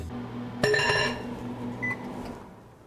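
Microwave oven running while melting butter in a home kitchen, a low steady hum broken by a sudden clattering burst and a short high tone, then quieter running.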